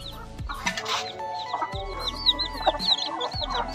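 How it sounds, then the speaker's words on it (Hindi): A flock of hens and roosters clucks and chirps nearby in a steady, uneven chatter, with sharp squawks and a few louder bursts in a quiet farmyard. "कुकड़ा कुकड़ भी मैं रखे हुए हैं दोस्तों आओ तो मुर्गी दिखाना"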